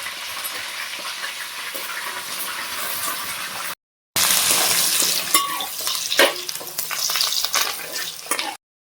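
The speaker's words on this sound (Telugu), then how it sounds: "ఇప్పుడు ఉల్లిపాయలు అయితే వేగిపోయినాయి" Sliced onions, slit green chillies and curry leaves fry in oil for village-style country chicken curry, giving a steady close sizzle with scraping stirs; a brief silent gap breaks it midway and the clip ends with another.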